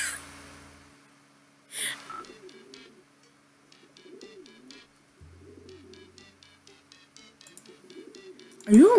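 Pigeon coos from a fantail pigeon in the video game Hiveswap, soft repeated calls rising and falling over a quiet game background with a few brief clicks and a louder burst at the end.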